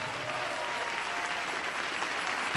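A congregation in an evangelical church service applauds in praise, a dense, steady wash of many hands clapping at even strength, ending in a sudden louder burst.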